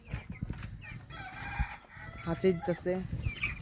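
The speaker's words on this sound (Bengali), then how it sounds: "হাঁচি কাশি আর কি দিতেছে, প্রায় মুরগির ঠান্ডা লাগছে" Broiler chickens about 13 days old, sick with a cold on a farm crowded with ammonia fumes, cluck and call nearby in short, irregular bursts against a steady barn background.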